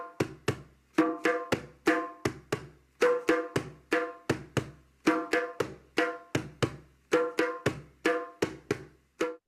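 Hand drum played in a repeating rhythm mixing deep bass tones with sharper open tones, clear strokes in steady grouped patterns, close and alone without speech.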